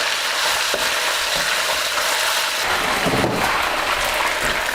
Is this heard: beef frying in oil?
yes